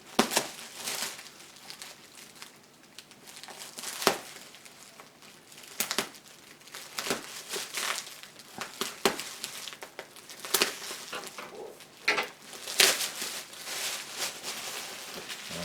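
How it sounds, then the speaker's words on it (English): Plastic wrapping is peeled and pulled off a large roll of new shade netting, giving irregular close crinkling, rustling and crackling bursts with quieter pauses between them. "So I need to go careful here getting the wrapping off because I don't want to cut the shade cloth"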